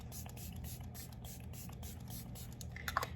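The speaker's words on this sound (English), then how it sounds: "Okay, so I'm gonna spray my face. I'm just using my e.l.f. Stay All Night." A few short spritzes of e.l.f. Stay All Night makeup setting spray hiss close by over a low background hum, followed by a small tap.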